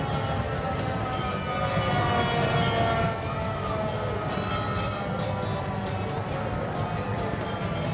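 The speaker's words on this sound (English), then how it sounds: "I hear sirens." Sirens wail at the Fiesta Bowl Parade in Arizona, probably from an old fire truck; a steady, moderately loud wavering tone carries over crowd and street noise.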